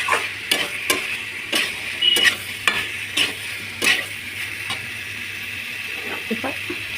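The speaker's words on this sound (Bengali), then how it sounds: "এরপর পনিরগুলো দিয়ে দেবো। পনিরগুলো দিয়ে হালকা কষতে থাকবে।" Paneer pieces sautéed in a pan with boiled potato, sizzling steadily up close while a spatula scrapes and stirs in irregular strokes, no voices.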